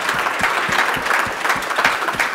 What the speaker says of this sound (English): can we just give the supporters another round of applause, please?